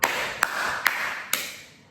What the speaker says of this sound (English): you could literally just clap.